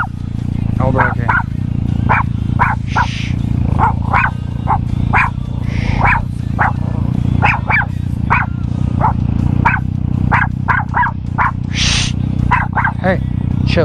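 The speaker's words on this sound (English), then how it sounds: "Hey, no barking." A dog barks repeatedly in sharp, close yips and barks over the steady rumble of a Yamaha FZ-09 MT-09 motorcycle riding through a 30 zone, with someone talking at times.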